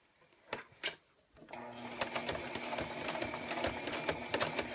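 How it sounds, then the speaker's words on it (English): A sewing machine stitches lining fabric close to its edge beside a zipper, starting after two brief taps and running as a steady, near, rapid mechanical whir with rhythmic needle clatter. "Sew as close as I can to the edge here of my lining fabric"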